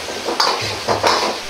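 A ladle pushing and stirring thickened mapo tofu in a metal pot, producing soft scraping and clinking strokes in a quick uneven rhythm, close and fairly loud with no talk.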